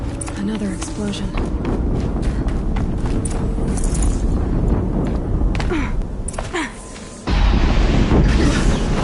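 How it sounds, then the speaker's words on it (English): Another explosion in Horizon Zero Dawn: a sudden loud boom breaks in near the end over busy game sounds and footsteps, with a person talking throughout. "Another explosion."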